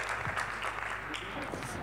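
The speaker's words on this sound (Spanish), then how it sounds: "muchas gracias por los aplausos espontáneos" An audience breaks into spontaneous applause at a book presentation, a brief, fairly quiet patter of clapping with some voices mixed in underneath.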